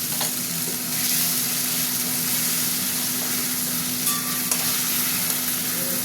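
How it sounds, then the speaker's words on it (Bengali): Tomatoes added to onions already browning in a pan fry with a steady, close sizzle, with a few clinks of stirring over the continuous crackle. "টমেটোগুলো দিয়ে দিচ্ছি"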